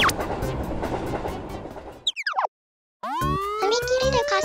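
A cartoon fire engine siren in an animated toy train scene at a level crossing wails with rising tones after a burst of crackling fire noise and a brief silence.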